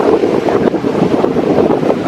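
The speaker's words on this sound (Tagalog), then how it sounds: "Pero hindi na po tayo tatawid doon kasi super lalakas ng alon." Strong surf and gusting wind on a beach facing a small island off Palimbang's northern coast, a steady broadband roar with wind buffeting the microphone throughout, no voices.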